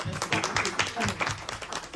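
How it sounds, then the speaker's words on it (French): Audience applause at a cultural gathering, a steady patter of many hands clapping at moderate distance, with voices mixed in under the clapping throughout. "Je voudrais qu'on l'applaudisse encore une fois"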